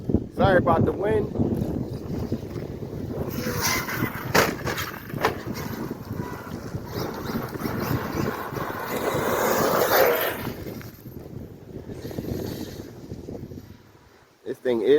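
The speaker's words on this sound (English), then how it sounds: "Sorry about the wind." Heavy wind buffets the microphone in a constant low roar, with a voice speaking faintly underneath, outdoors while running an Arrma Outcast 8S RC monster truck.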